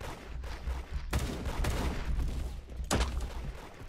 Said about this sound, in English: why is this Ian kid shooting me?